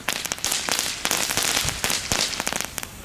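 Cheap category 1 fireworks bought at Aldi crackle close by in quick, uneven bursts of small snaps that rise and fall for a few seconds, with no voices.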